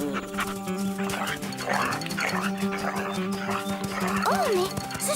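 Hunting dogs yip and bark in short excited bursts amid a busy cartoon soundtrack, with voices talking over them and a rising whistle-like tone near the end.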